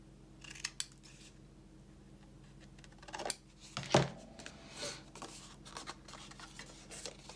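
Paper being trimmed with scissors for a handmade craft journal, a few quiet snips and rustles with one sharper cut standing out midway, close and fairly soft.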